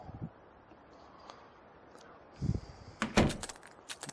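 A damaged wooden toilet door in a disaster-survival video game opens with a short creak, a soft thump and a few sharp clicks and rattles, fairly quiet and close, with no talking.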